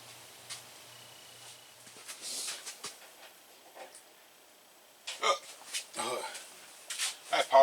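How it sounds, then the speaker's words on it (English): Several abrupt hiccups from a person in a home kitchen, brought on by vinegar from a salad, come in irregular bursts between softer rustling and handling noises. "The vinegar from the salad is giving me the hiccups."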